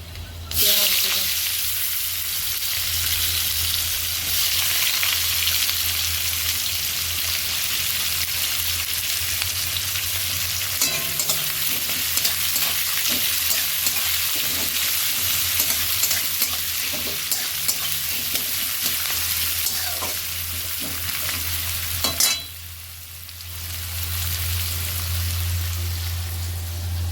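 Onions tossed into oil with fenugreek seeds sizzle in a dense, continuous crackle for a long stretch, close and loud, with scattered stirring clicks and a brief dip near the end.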